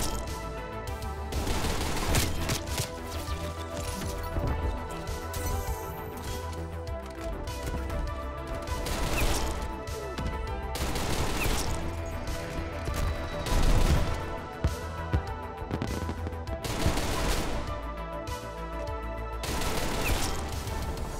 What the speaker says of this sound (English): They got a strafe run and I can't push out.